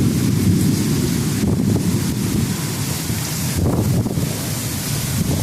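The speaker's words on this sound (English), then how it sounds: "Look at the wind." Strong coastal wind during a thunderstorm roars steadily across the microphone, a dense low rumble with surges and gusts throughout, no speech.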